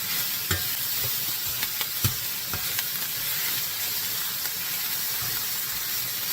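Ham sizzling in its own rendered fat in a skillet heated on high, a loud steady hiss of frying with scattered pops and crackles, close and alone.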